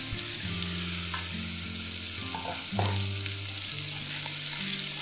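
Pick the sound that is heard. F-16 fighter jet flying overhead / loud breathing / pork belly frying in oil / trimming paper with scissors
pork belly frying in oil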